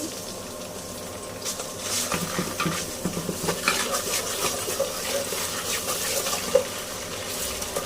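Ginger-garlic paste frying with onions and bay leaves in a pan while a spoon scrapes and stirs, giving repeated close metallic clinks over a soft sizzle, no talking.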